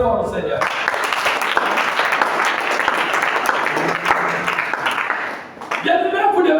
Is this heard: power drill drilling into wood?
no